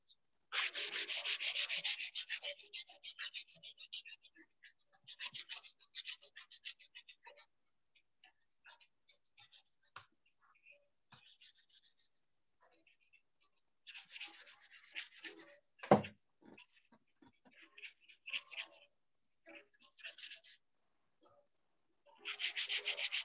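Copper sheet being sanded by hand with sandpaper for electro-etching, close scratchy rubbing strokes in repeated bursts separated by quiet pauses, with one sharp knock midway.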